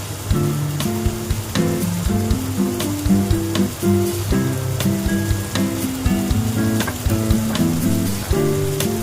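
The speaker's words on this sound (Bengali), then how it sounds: "আমি এভাবে ভাজতে থাকবো" Vegetables fry with salt and chopped green chili for an upma snack, a steady close sizzle running throughout with scattered stirring clicks and faint background music.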